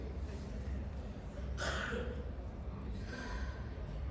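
Breathing during a pranayama exercise: two audible breaths, a strong exhale near the middle and a softer one after, over a quiet background hum.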